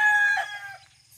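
A rooster crows once, loud and close, a bright drawn-out call that fades within a second over faint low clucking from a flock of backyard chickens at early morning.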